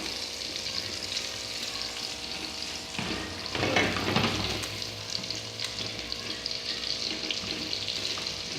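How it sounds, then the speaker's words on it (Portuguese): Diced bacon frying in its own rendered fat in a pan for pasta with vegetables: a steady, close sizzle with soft crackle that swells briefly in the middle, alone with no talk. "o bacon está em contato com a gordura, ele consequentemente derrete mais rápido"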